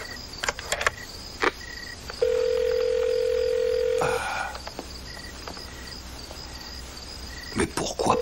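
A telephone in a French film rings unanswered, a steady electronic tone sustained for about two seconds amid quiet background, with faint clicks and brief tonal blips around it.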